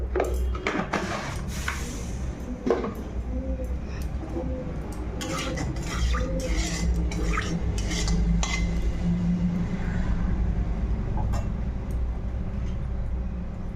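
Pumpkin flowers are mixed by hand with salt and turmeric in a kitchen bowl, giving soft clinks and scraping against dishes and a low background hum, with no speech.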